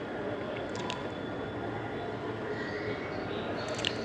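A steady low rumble of a metro train running along the track, continuous and moderately distant, with no voices.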